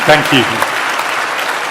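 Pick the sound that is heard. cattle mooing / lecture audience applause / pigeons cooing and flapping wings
lecture audience applause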